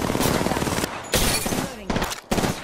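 Rapid automatic gunfire from a video game battle royale, Apex Legends, in dense bursts with brief pauses between volleys, loud and close.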